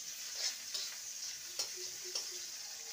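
Minced garlic and chopped onion frying in a pan give a steady, quiet high hiss of sizzling oil, with a few faint taps of a stirring spoon scattered through it.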